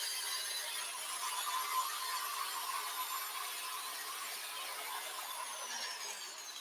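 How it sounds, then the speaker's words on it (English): A power drill runs steadily while prepping 223/556 rifle brass for reloading, giving a continuous high-pitched whirring grind with no breaks and no talk. "drown out the noise of the drill"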